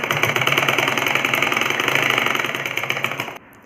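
A sewing machine runs fast and steady while stitching a seam on a ladies' kurta, giving a loud, close, continuous mechanical whir for a few seconds before it stops abruptly.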